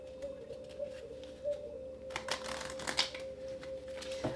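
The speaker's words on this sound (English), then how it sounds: "Okay, one more shuffle." Tarot cards shuffle in a soft, rapid riffling that picks up and grows busier partway through, over a faint steady hum in a quiet room.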